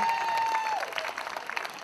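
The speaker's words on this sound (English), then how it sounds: "Have a round of applause for the beautiful voice, right?" Applause at a tribute show for a backing singer on stage rises as a sustained tone fades, clapping close and moderately loud, with scattered crowd noise and no talk.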